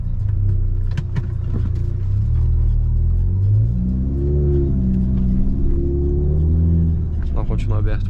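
A Citroen DS4 Stage 2 engine rumbles and rises in revs while the car reverses, loud and close inside the cabin, with someone talking over parts of it.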